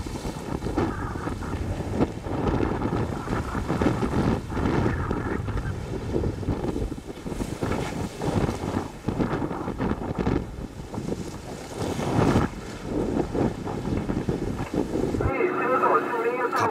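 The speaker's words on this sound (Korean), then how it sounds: "갑자기 거세지기 시작한 파도." Rough seas build off Chuja Island near Jeju as a typhoon approaches, pounding a croaker-fishing boat; loud continuous wind buffeting and surging waves fill the scene, with a heavy roar throughout.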